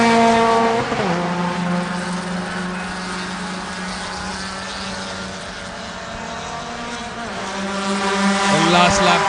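Race cars roaring past on a circuit during the final lap of an Indian National Car Racing Championship event, loud sustained engine drone with rising and falling pitch as cars pass, swelling again near the end.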